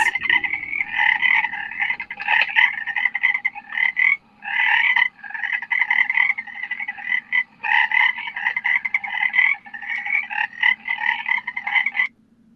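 Frogs croak in a dense, continuous chorus, pulsing calls layered together with brief pauses, backed by a faint steady hiss of rain.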